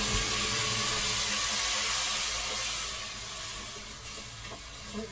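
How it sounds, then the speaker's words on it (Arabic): Tomatoes with red chili peppers sizzle and hiss steadily in a frying pan with onions while stuffed-vegetable filling is cooked, a close, continuous frying noise with no voices, easing slightly toward the end. "نزلت كده بالطماطم بتاعتي."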